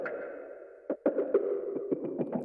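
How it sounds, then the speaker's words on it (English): A flanger effect on a track in Ableton gives a spooky feel: a sustained, swirling synthetic tone with a sweeping character, punctuated by sharp percussive hits in the second half. "Set that flanger on."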